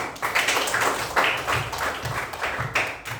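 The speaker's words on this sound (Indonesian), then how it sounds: "tepuk tangan buat Sang Oman" A classroom of students claps for a classmate, a close, somewhat rhythmic patter of hand claps in loose unison, with a few separate pulses standing out before it eases.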